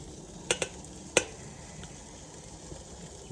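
Chicken thigh cutlets sizzle on a barbecue in a low steady hiss, broken by a few sharp metallic clicks of tongs or a utensil near the start.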